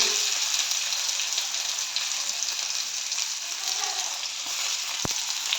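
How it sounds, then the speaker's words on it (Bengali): Chopped onions sizzle steadily in a small amount of hot oil for a chilli soya chunks dish, a dense, even crackle held close and loud throughout, with a brief sharp clink near the end. "পেঁয়াজ কুচিটা হালকা করে ভেজে নেব"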